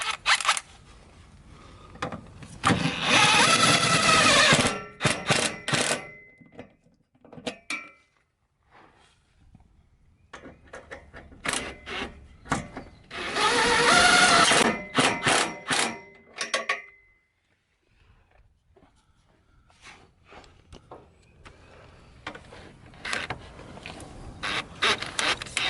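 Bolts for side step bars on a Jeep Wrangler JL are driven in with two loud, extended bursts of ratcheting, separated by scattered clicks and metallic handling noises close by.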